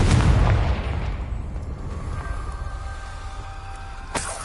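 Confringo spell in Hogwarts Legacy: a loud booming explosion right at the start that rolls off into a fading rumble, followed by faint ringing tones and a sharp crack near the end.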